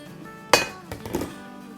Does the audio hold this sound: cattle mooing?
no